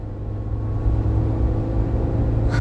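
A Suzuki Jimny cruising at 50 miles an hour, heard from inside the cabin as a steady, loud low engine and road drone with a constant hum that breaks off abruptly at the very end.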